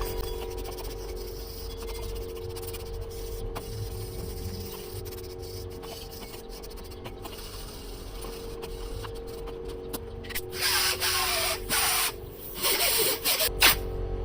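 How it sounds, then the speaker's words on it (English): A wire brush scrubs a water pump during restoration prep, giving bursts of harsh scratching strokes that grow louder and rougher toward the end, close up with a faint background hum. "Gonna go over this thing with a wire brush."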